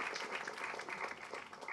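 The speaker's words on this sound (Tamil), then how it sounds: "கைத்தட்டுங்க." Audience applause at a speech event, a steady patter of many hands clapping, fairly faint and distant, without voices over it.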